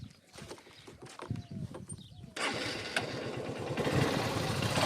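Motorcycle on a Rajasthani farm that failed to start, then catches: first come scattered knocks and a quiet stretch, then the engine suddenly fires up and keeps running loud and steady to the end, with faint voices in the background.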